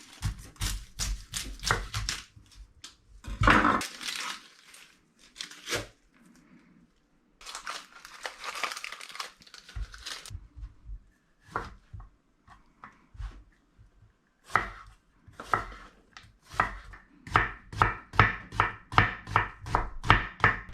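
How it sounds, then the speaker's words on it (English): A knife chops a medium onion into half-moon slices on a cutting board, with quick repeated cuts arriving in bursts and short pauses, close and clear and with no talk. "So I have a medium-sized onion over here. I'm just gonna cut this into half moons."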